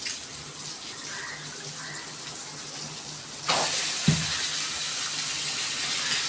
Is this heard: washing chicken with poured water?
yes